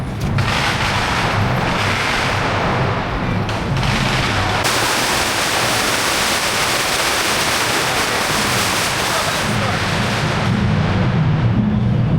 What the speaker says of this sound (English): So you can only do firecrackers inside.